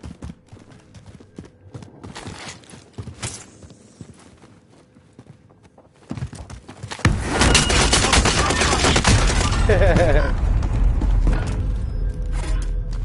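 Gunfire in a first-person shooter match, sparse and muffled at first, then erupting into a loud, dense barrage of rapid shots that continues to the end.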